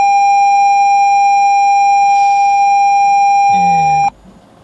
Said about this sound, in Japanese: でこれでアクセル踏むと、警告音が鳴りますと